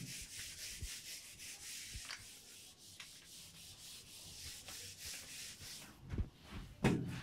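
A board is rubbed to erase writing, giving a steady, soft scraping and swishing with brief knocks and bumps, close and fairly quiet, growing louder near the end.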